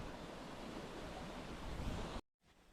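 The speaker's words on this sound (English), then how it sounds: "So the water here that you're seeing is going to rush under the ice" Broadband rush of water flowing beneath ice at a frozen waterfall in sub-zero winter conditions, a steady loud roar that cuts off abruptly near the end.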